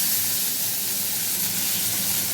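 Cauliflower dropped into hot oil with spices, giving a loud, steady, close sizzling hiss that continues without a break, with no talking.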